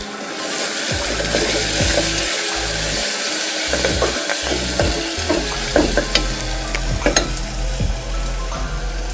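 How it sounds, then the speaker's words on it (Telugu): A tempering of asafoetida and turmeric fries in hot oil in a pan for curry leaf rice, a loud steady crackling sizzle close up, with intermittent scraping stirs and clicks toward the end and no talking. "పోపు వేగిందండి."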